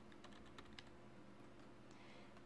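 Soft, faint clicks of a computer keyboard while entering form choice items in a word processor, a few quick taps early on that thin out over a low hum, with no speech.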